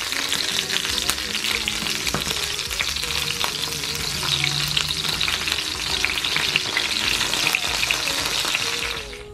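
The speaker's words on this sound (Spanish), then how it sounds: "voy a pasar los tomates y los chilitos aquí por el aceite para hacer la salsita" Tomatoes and chilies fry in hot oil for a green salsa, a loud, continuous close sizzle and crackle that spits steadily throughout with no talking.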